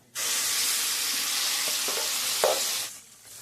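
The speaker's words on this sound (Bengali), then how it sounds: "এবার আমি এটাকে ভালো করে নাড়াচাড়া করে মিশিয়ে নেব।" Spice paste for a dal dhoka curry hits hot oil in a pan and is stirred. A loud, steady sizzle runs for about three seconds, with a few scraping stir sounds, then fades away.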